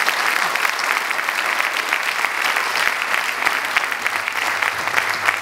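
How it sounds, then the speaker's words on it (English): Sustained applause from an audience at a talk in New Delhi, dense and steady throughout with no pauses, the clapping loud and filling the whole stretch. "So, a big round of applause again."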